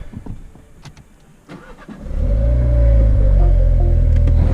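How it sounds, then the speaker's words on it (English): A MINI JCW engine cranks and catches at about two seconds, then settles into a loud, steady idle rumble close by, after a few quieter clicks and knocks. "Okay, so we're just gonna back the car up."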